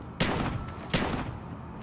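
Two sharp gunshot bursts ring out behind the player in the mobile battle royale game Call of Duty Mobile, each a loud crack with a short decaying tail, spaced under a second apart over a low background.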